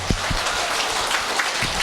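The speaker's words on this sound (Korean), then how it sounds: "우리 크게 한번 하나님께 영광의 박수 올릴까요?" A church congregation applauds at a Christmas service, a steady wash of many hands clapping that runs evenly throughout.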